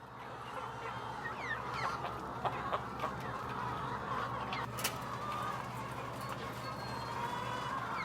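Free-range hens moving freely in a building, with repeated soft clucks and occasional sharper calls over a steady low hum, fairly quiet and close.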